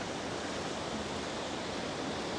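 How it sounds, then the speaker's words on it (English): Steady, dense rush of river water flowing through a gorge in Nikko, Japan fills the air, a broad continuous roar with no pauses or voices. "You can hear the water."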